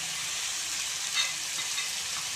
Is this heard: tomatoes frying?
yes